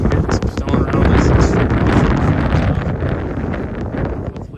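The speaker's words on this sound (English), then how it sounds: "Hopefully it's not as windy and miserable as it is today." Strong wind gusts buffet the microphone at an outdoor construction site where a house footing is being built, a loud rumbling roar that fills the whole clip.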